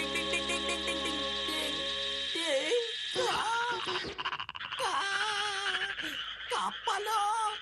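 Frogs croaking in a cartoon: a chorus of croaks and warbling calls over tonal music, then wobbly, groaning croak-like voices in irregular bursts, fairly loud and close.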